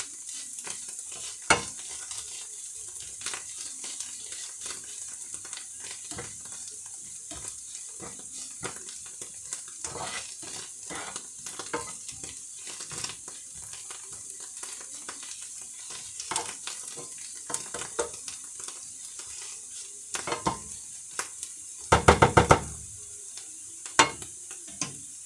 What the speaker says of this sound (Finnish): se on hyvä tällainen laittaa tähän kantarellien joukkoon jo, että ne lähtee tässä lämpöisessä niin muhimaan oikein kunnolla nuo mausteet